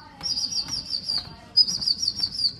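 Pigeons take off and fly off in two bursts of wing flapping, with sharp, high chirping over the top and a steady low background rumble.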